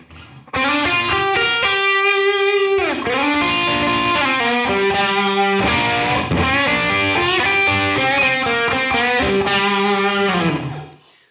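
A blues lick played on distorted electric guitar, with a run of bent and sustained notes, quick picked phrases and heavy vibrato, loud and close with no talking.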